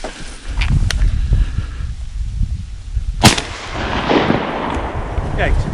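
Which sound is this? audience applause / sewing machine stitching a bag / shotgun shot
shotgun shot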